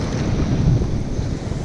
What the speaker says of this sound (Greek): Βγάζει ώρες κάτι κύματα